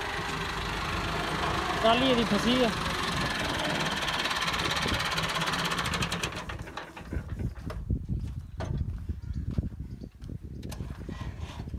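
Tractor with a bucket attachment and a faulty self-starter, its diesel engine idling close by in a loud steady knock, quieter in the second half, while people talk nearby.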